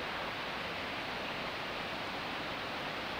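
Small waterfall on a low-water river at a campsite in Crimea, a steady broadband rush of falling water, close and even throughout with no other sounds.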